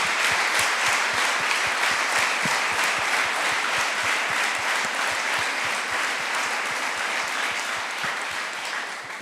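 A church congregation claps loudly and steadily in a large room, many hands in a dense, sustained round of applause with a faintly rhythmic pulse, and no voices on top.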